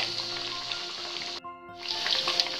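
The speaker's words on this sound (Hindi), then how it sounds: "अब इसमें हम पूड़ियों को डाल देंगे और इसे मीडियम फ्लेम पे ही हमें इसे तलना है।" Khasta masala puris deep-fry in medium-hot oil in a kadai, a close, steady bubbling sizzle that briefly drops away and then swells again, with no talk.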